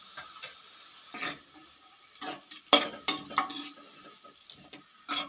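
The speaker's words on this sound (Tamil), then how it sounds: "நல்லா வணக்கி விட்டுங்க எண்ணெயில்." A spoon scrapes and stirs sliced onions, dried red chillies and garlic frying in oil for dal rice, giving soft irregular scrapes over a faint sizzle, close and quiet.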